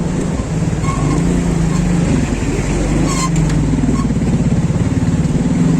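Motorbike engine labours loud and close while climbing a rocky mountain track near Rambore in the Kalash valleys, a continuous throbbing drone with slight rises in pitch, no speech.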